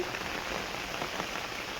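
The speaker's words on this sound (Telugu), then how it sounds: "ఈ చామగడ్డ మొక్క మీద ఎంత వాన పడినా కూడా నిలవదనమాట చినుకు ఉండకుండా మొత్తం కారిపోతుంది" Rain falls on taro and sugarcane plants in a field, a steady dense hiss of drops pattering on leaves, even and unbroken, with no voices.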